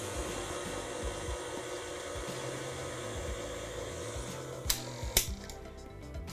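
An electric mixer whirs steadily at low volume while blending milk into pound cake batter, a continuous hum with a couple of short clicks or knocks near the end.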